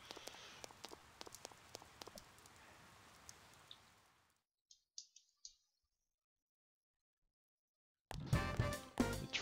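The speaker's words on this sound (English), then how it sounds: "It's raining, so I don't have soccer practice today." Steady light rain patters throughout the first half in Persona 4, then breaks off into near silence with a few soft clicks before a louder burst of sound at the end.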